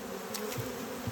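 A swarm of honeybees hums around a nuc box, a close, continuous buzzing drone with individual bees briefly flying past.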